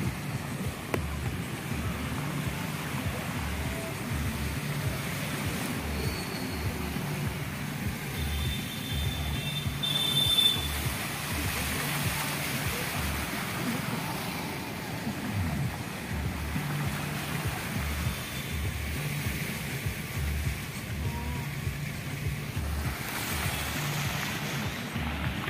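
Floodwater rushes like a river down a street in Ahmedabad after 24 hours of heavy rain, a steady broad watery roar that continues unbroken and fairly faint throughout, with no talk.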